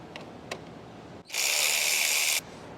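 Working a 4 mm bolt loose on a 2026 Aprilia RSV4 motorcycle, a couple of quiet clicks come first, then a close, steady buzzing whir of a ratchet spinning for about a second before it stops abruptly.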